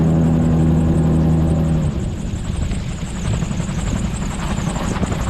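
A gyroplane's engine and rotor drone loudly and steadily at close range as the aircraft begins a hover taxi at an airfield, with a strong low throbbing hum that shifts in tone partway through.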